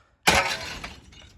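Ceramic floor tiles shatter during interior demolition, a single sudden crash of breaking pieces followed by a short scattering tinkle that fades, close and fairly loud.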